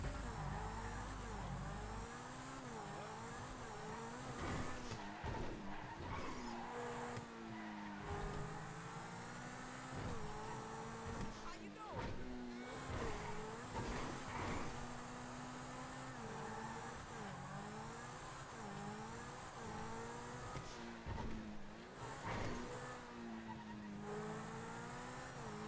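A car in the GTA 5 video game drives hard, its engine droning and rising and falling in pitch with revs, broken by repeated tire squeals and skids over a continuous loud mix.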